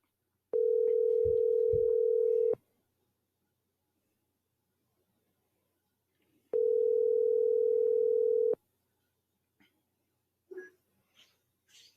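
A telephone ringback tone while placing a call: two long, steady tones, each about two seconds, separated by silence, followed by faint scattered rustles.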